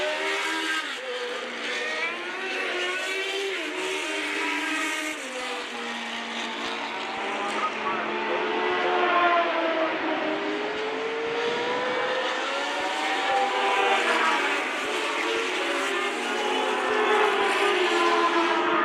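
Formula One race cars circulate during a vintage race at a 2015 reunion event, their engines droning loud and continuous with shifting pitch as the pack passes, with no talk over it.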